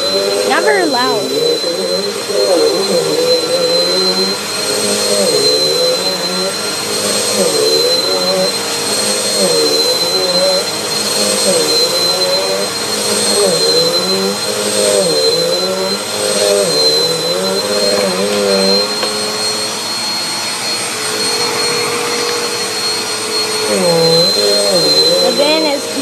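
A Bissell Aeroswift Compact corded bagless upright vacuum runs on its lowest setting, giving a steady whirring drone with a high whine that holds throughout, close and fairly moderate in volume.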